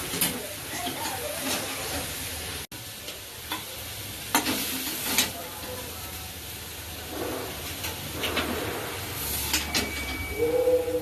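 Red amaranth greens frying in a hot pan, with a continuous soft sizzle broken by repeated scraping stirs of a spatula against the metal, close by.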